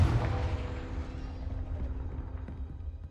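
A fiery Confringo spell blast in the Hogwarts Legacy video game, a deep rumbling boom that starts loud and slowly fades away over a few seconds, with nobody speaking.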